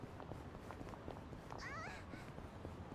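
A cat in the video game Yakuza: Like a Dragon gives a short, faint meow partway through, set against steady street ambience and light background noise.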